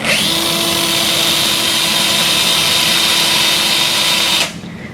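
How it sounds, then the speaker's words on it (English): A surgical power drill bores into a Sawbones model of the hamate bone, holding a loud, steady high-pitched whine for several seconds before cutting off abruptly near the end. "Manually extend the 4th and 5th metacarpal and drill until the distal cortex of the hamate."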